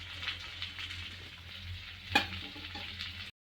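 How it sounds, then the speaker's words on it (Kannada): Bitter gourd, potato, onion and garlic fry together in a pan with a soft, steady sizzle. A single sharp clink sounds near the end, and no one speaks. "ಇದೊಂದು 5 ಮಿನಿಟ್ಸು ಇದರಲ್ಲೇ ಫ್ರೈ ಮಾಡ್ಕೋಬೇಕು."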